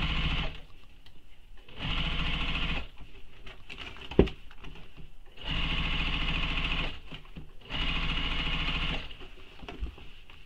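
A sewing machine stitches a shoulder bag in three long bursts of steady whirring, with quieter pauses between runs and a brief clunk near the middle, close and clear with no talk.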